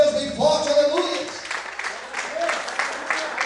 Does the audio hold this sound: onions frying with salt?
no